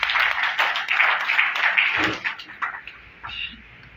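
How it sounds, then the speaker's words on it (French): An audience applauds Dr Oumarou Joya at a seminar held at an African school of ethics, a dense crackle of many hands clapping steadily for several seconds before thinning out and fading. "je vous prie s'il vous plaît d'accorder un tonnerre d'applaudissements au docteur Oumarou Joya"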